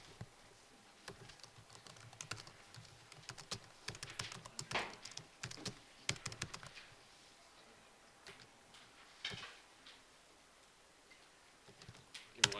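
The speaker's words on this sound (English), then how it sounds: "Now I'm going to type in a different function" Keys clack on a computer keyboard in irregular bursts of typing with short pauses, close and fairly quiet, with no talk.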